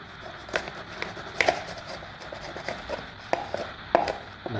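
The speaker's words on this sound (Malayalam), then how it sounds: "അപ്പൊ ഈ കാണുന്ന ഈ ഒരു മീനെ നമ്മൾ ചെറുതായിട്ട് കട്ട് ചെയ്തെടുക്കുകയാണ്" A knife chops a cleaned fish into small pieces on a board, a steady run of sharp, moderately close thunks at an uneven rhythm, with quiet gaps between strokes and no talk.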